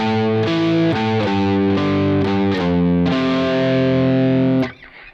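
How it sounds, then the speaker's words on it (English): A heavy, distorted bass guitar line plays alone, a few plucked notes in a slow pattern, then stops abruptly. "That bass part will sound like this"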